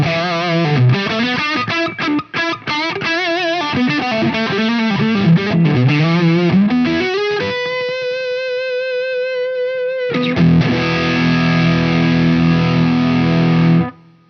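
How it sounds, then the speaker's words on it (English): An electric guitar played through a MOSFET overdrive pedal with the gain turned fully up gives a loud, saturated distorted tone: choppy riffing first, then long sustained notes and ringing chords that cut off abruptly at the end. "Here we go with the Mosfet with the gain all the way up."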